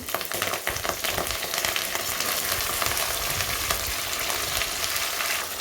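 Onions, curry leaves and green chilies frying in hot oil for a Karnataka-style tomato rice, a loud continuous crackling sizzle close by with occasional stirring scrapes, no talking.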